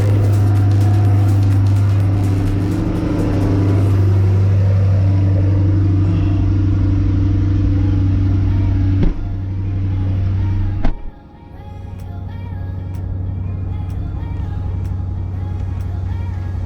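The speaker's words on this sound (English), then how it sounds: "We are on the road to do a little driving experience of my 2020 C8" A 2020 Chevrolet Corvette C8 drives on the road with a steady, loud low engine drone, then a sharp thump and dip near eleven seconds before the engine hum resumes somewhat quieter.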